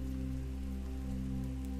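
Soft, steady rain falls as a faint, even wash beneath a low tonal hum, continuous and unbroken with no voices.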